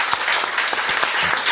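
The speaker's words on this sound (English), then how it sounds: "a huge round of applause for them" A crowd at a film media event gives a big round of applause for the Pakistan Air Force, dense close clapping with sharp individual claps standing out, brief and loud.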